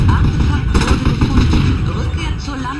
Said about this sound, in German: Mörser